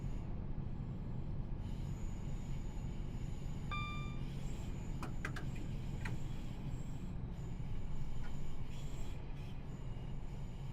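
Trains run through Birmingham in the Train Sim World 6 game on the Cross City line, giving a steady rumbling rail roar with brief high wheel squeals and clicks partway through.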